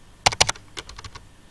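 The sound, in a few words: typing on a computer keyboard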